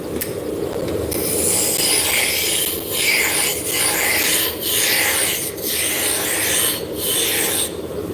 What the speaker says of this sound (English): And the nice thing about burnishing is you already have the wood chips.